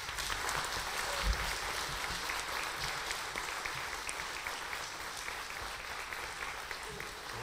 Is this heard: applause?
yes